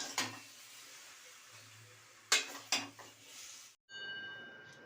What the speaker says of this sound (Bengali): এবার পালং শাকটাকে সবজির সাথে ভালো করে মিশিয়ে নেব।